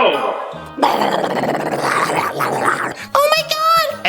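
An animated dog growling and snarling as it closes in and attacks, a loud rough rumble running through, with a sharp yelp or strained cry near the end.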